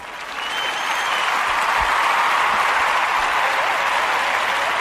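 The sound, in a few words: applause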